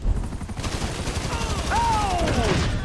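Game gunfire in GTA V aimed at a helicopter: a dense, continuous rattle of rapid shots over a steady roar, with a whining tone sliding downward near the end.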